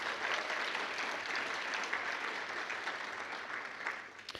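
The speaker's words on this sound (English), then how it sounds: "Please, a round of applause for all of our honorees." An audience applauds honorees at a Quarter Century Club celebration for long-serving WSU employees, a dense, sustained wash of clapping from a crowd, fairly distant and even throughout.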